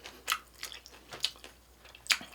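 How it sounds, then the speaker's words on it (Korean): Close, wet chewing of a mouthful of ramen stir-fried with spicy fire chicken noodles and black bean sauce, several crunchy, squishy bites spaced irregularly over a quiet background with no talking. "음식은 한 입에 넣고 이렇게 와구와구 씹어 먹어야 맛있는 거 아시죠?"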